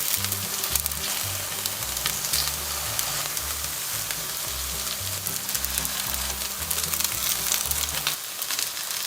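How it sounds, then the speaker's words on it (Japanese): Patties of grated yam and tofu frying in a pan until browned, a dense, continuous sizzle and crackle at close range, with a steady low hum underneath. "では並べ入れたらそこにこんがり焼き目がつくまで焼きます。"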